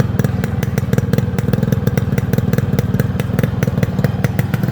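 A silver Yamaha RX 100 motorcycle's two-stroke engine runs steadily up close, a loud, rapid, rhythmic putter with clattering beats throughout, no voices over it.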